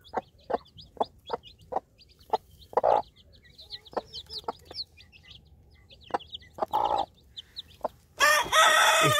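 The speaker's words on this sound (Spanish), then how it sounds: "Miren, miren, miren cómo están estos pollos." Hens cluck in short, repeated bursts with faint high peeping from three-day-old chicks, close by, ending in a louder squawking flurry.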